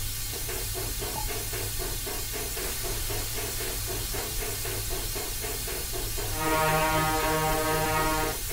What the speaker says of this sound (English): Someone put a ship's horn on the steam train by accident.